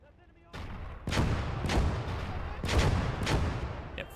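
Anti-personnel mines blowing up under infantry in the WWII strategy game Gates of Hell: a series of sharp, booming blasts spaced roughly half a second apart, each with a rumbling tail, over a low battlefield background.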